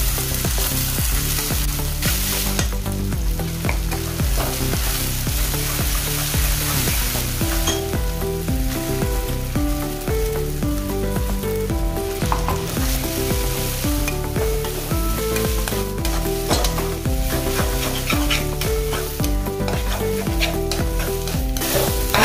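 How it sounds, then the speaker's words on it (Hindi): Continuous loud sizzling of ground spice paste frying in a pan for spinach and gram flour curry, with a spoon scraping and stirring throughout at close range. "इसमें 1-2 मिनट ऐसे ही हम चलाते रहेंगे चम्मच से"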